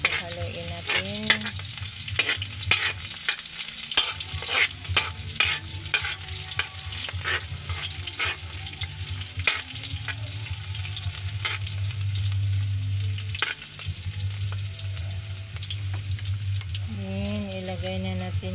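Garlic and onions sizzle steadily in a pan while a utensil scrapes and stirs in repeated sharp strokes, loud and close, with no talking.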